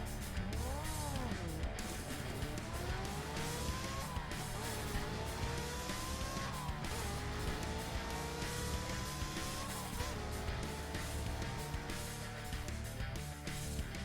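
Mini trucks race in single file around campers and dash for the finish, engines revving loud and steady with rising and falling pitch sweeps and occasional tire squeal throughout.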